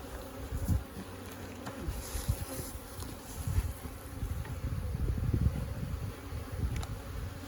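Honey bees buzz continuously around the listener, a dense droning hum with intermittent louder passes of individual bees and occasional knocks close by.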